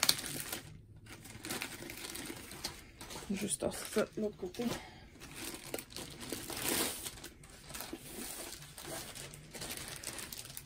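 A Diamond Art Club diamond-painting package is unwrapped up close, giving bursts of crinkling and tearing plastic and paper. Someone talks quietly over the rustling.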